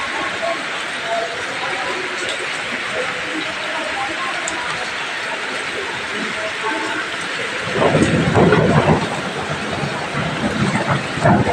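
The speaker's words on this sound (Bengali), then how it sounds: "শুনতে পাচ্ছ বন্ধুরা, মেঘ ডাকছে" Steady rain-like hiss in a garden gives way to a low, swelling thunder rumble in the last few seconds, with a voice present in the background.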